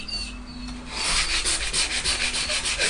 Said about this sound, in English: always place to run the sandpaper over and run your hand over it